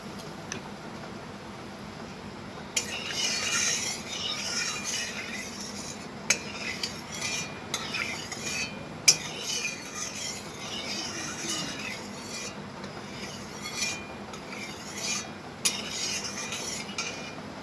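A metal spatula stirring turmeric into hot oil in a kadai makes repeated scraping clinks and taps against the pan, close and irregular, over a low background hiss.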